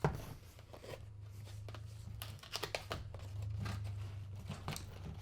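Crinkling plastic and paper packaging from unboxing a multi-device Bluetooth keyboard, irregular rustles and tearing close by over a low steady hum, quiet and fairly continuous.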